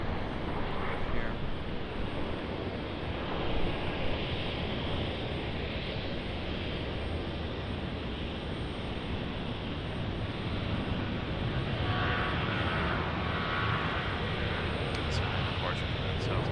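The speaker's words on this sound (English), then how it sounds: "another 737 departure southwest" A Southwest Boeing 737 departs with a sustained, fairly distant jet rumble mixed with wind buffeting on the microphone, while a voice talks intermittently.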